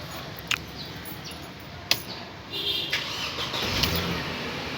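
A 2005 Mercedes C200 engine cranks and starts, with a couple of sharp clicks followed by the motor catching and settling into a steady idle close by.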